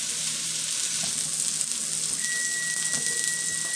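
A cheeseburger patty fries in a pan, seasoned with sea salt and pepper, giving a steady, loud, close sizzle with crackling spatters and no talking.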